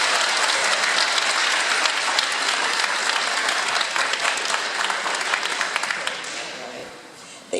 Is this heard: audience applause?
yes